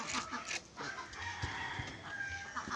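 Rhode Island hens cluck and call close by in a farmyard, a busy overlapping chatter of short clucks and drawn-out notes with faint background noise.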